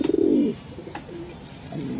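A racing pigeon gives a short, low throaty coo up close, then near quiet until a fainter coo returns at the end.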